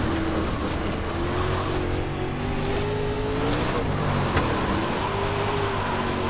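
A dirt race car engine in the iRacing sim drones steadily throughout, its pitch rising and falling as the throttle is worked, loud and continuous with no talk over it.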